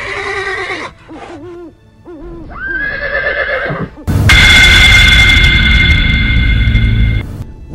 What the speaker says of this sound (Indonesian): mengeluarkan sebuah suara ringikan kuda